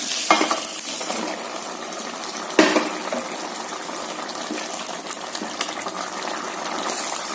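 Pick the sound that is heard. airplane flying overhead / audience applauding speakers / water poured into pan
water poured into pan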